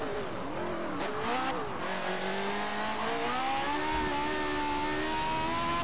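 A race car engine in Forza Motorsport 7, a single-seater revving high up to about 11,000 rpm; the tone climbs and dips, then holds a rising whine that stays steady and up close, alone without talk.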